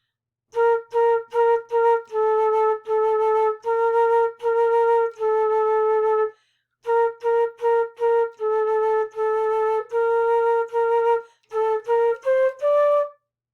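A flute plays a simple melody of short separated notes, pausing briefly midway, then rising at the end; clear and close with no talking.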